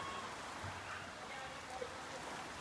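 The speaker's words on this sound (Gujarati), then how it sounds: "તો મિત્રો જોરદાર વરસાદ ચાલુ થઈ ગયો છે" Heavy rain pours down steadily in a village, a faint, even hiss of falling water heard at a distance with no break.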